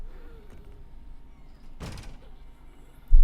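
A door opens in the horror video game Tormented Souls 2, giving a single brief, muffled thunk amid a quiet, low ambient hum, followed by a louder low thump at the very end.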